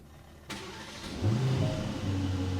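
Aston Martin DB12 with a 680 hp V8 starting after a push-button start: a click, a whirring crank, then the engine catches with a loud flare and settles into a steady, rumbling idle, heard up close.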